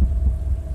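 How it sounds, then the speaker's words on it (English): Heartbeat sound effect in a dark, mysterious music video teaser, a deep, booming low throb pulsing under a steady hum, loud and close. "The heartbeats in the background."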